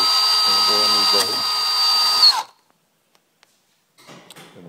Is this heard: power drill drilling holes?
yes